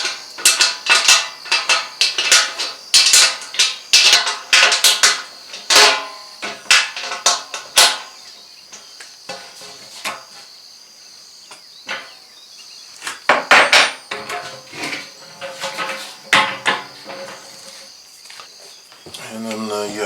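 Wrench tightening bolts on the wheels of a VEVOR cyclone dust separator tank, a series of close, sharp metallic ratcheting bursts and clanks in uneven clusters, with brief quiet gaps.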